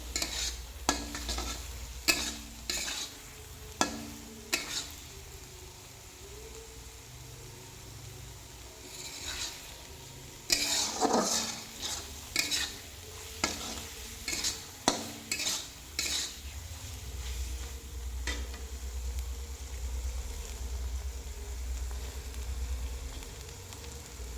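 A spatula scrapes and knocks through potato, paneer and capsicum vegetables in a frying pan, a steady run of sharp strokes over a soft continuous sizzle, close and unaccompanied by talk.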